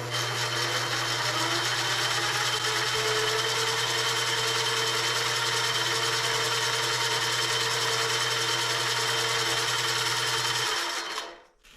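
A mini lathe fitted with metal change gears runs under power feed with a steady, loud mechanical whir and hum before spinning down abruptly at the end.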